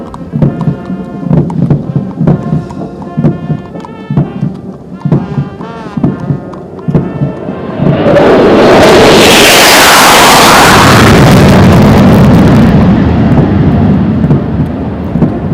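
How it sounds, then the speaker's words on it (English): Three Sukhoi Su-30MKI fighter jets fly past at a National Defence Academy passing out parade, a loud roaring rush building suddenly and swelling to a broad, overwhelming jet roar before slowly easing off, after music-like sounds. "you will see 3 Sukhoi 30 MKI aircraft approaching the quarter deck"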